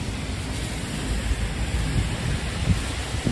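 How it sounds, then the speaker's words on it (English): Rain falls on a Midtown Manhattan street on a Sunday night, a steady broadband hiss with a low rumble of city noise beneath, constant and without voices. "Looks amazing when it's raining here."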